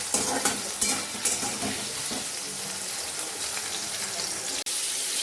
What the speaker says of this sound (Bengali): আলুটাকে আবার ভেজে নেব ভালো করে